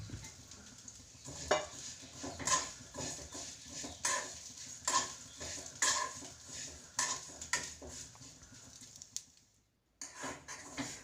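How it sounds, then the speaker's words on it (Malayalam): A spatula scrapes and stirs vermicelli roasting in ghee in a pan in uneven bursts over a light sizzle, with clinks of metal, pausing briefly near the end. "അല്പം നെയ്യ് ഒഴിച്ച് നമ്മളുടെ സേമിയ ഒന്ന് റോസ്റ്റ് ചെയ്തെടുക്കുക"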